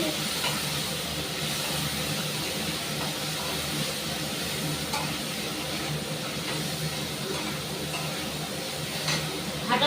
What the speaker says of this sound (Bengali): এবার মশলাটাকে খুব ভালো করে আমি কষিয়ে নেব।